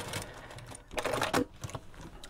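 A sewing machine stitches a couple of short back tacks while joining a seam, brief bursts of rapid mechanical stitching close by, with quiet pauses between them.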